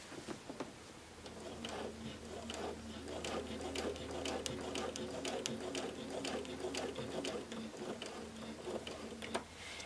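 A sewing machine free-motion quilts spider-web stitching along a seam in gray fabric, giving a steady close whir with rapid, even needle ticks that run continuously without pause and no talking.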